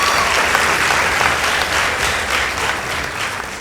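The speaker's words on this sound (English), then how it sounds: "Let's give them a round of applause." An audience applauds a secondary-school debate team from Light Academy, with steady, dense clapping from a large crowd that holds at full strength throughout and no voices over it.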